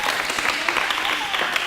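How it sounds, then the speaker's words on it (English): Cast members of a new stage musical applaud together in a room, a dense, steady burst of many hands clapping at close range for a couple of seconds. "Go ahead. You can clap."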